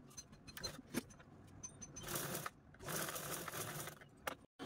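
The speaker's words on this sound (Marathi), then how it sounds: "आता आपण ते अशा पद्धतीने हँडल पण लगेचच स्टिच करून घेऊया।" A sewing machine stitches the handle of a fabric shopping bag, with steady mechanical whirring bursts that alternate with short pauses and faint handling clicks, close and alone without talk.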